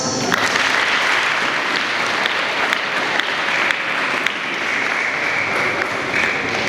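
Children at a school culture competition in Rubavu burst into applause, a dense, steady wash of clapping from a large group that holds at an even level for the whole stretch.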